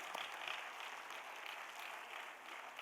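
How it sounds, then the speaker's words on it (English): Audience at a school annual day gives the students a sustained round of applause, a soft, even wash of many hands clapping at a distance with no talk. "So that's a wonderful big clap they deserve for all of this."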